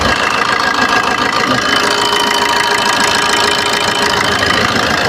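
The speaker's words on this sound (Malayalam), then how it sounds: "ടൈമിങ്ങിൻ്റെ ഭാഗത്ത് എഞ്ചിൻ്റെ സൗണ്ട് ഞാൻ കേൾപ്പിച്ചു തരാം" Maruti Suzuki Ertiga engine idling after a timing chain replacement, a steady, loud mechanical hum with a faint ticking knock running evenly throughout, no voices.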